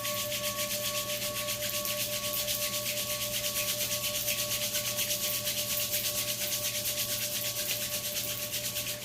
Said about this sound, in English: And then rub the hands together.